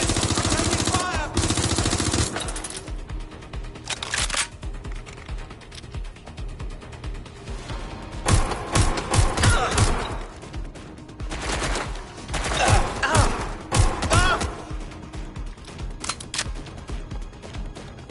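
Rapid bursts of automatic gunfire and single shots in a PS4 shooter game, loud and dense, running in clusters with brief lulls throughout.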